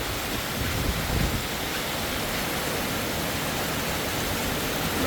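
Dense, steady hiss of heavy rainfall filling the space, loud and constant with no breaks or voices.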